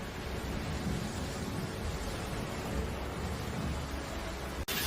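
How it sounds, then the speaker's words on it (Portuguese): Sea waves striking a coastline in stormy conditions, a constant broadband roar of surf and wind, steady and loud with no distinct breaks. "vemos como as ondas do mar atingem a costa, criando distúrbios"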